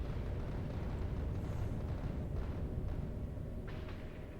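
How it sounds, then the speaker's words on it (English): Explosions in the video game Factorio: Space Age make a steady, dense rumbling roar that holds at constant loudness throughout, with no talking. "The explosions from these can sometimes hit some other smaller ones."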